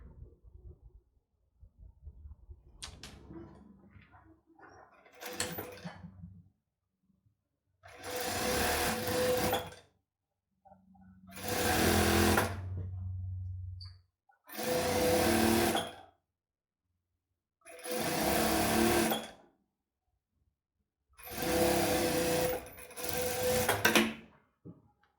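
A sewing machine stitches the seam of a flared circle skirt waistband in five distinct bursts of a few seconds each, separated by silence, after some soft handling noises at the start.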